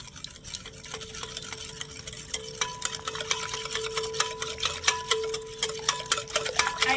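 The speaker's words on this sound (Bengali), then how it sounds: "এবার একটা হুইক্সের সাহায্যে ভালো করে মিশিয়ে নেবো" Eggless mango cake batter with oil and a pinch of salt being whisked in a bowl: quick, rhythmic clicks of the whisk against the sides that grow steadily louder and busier.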